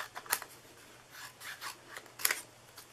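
Scissors make small snips while fussy cutting cardstock. The cuts come in short, quiet bursts with brief pauses between them, close by and with no talking.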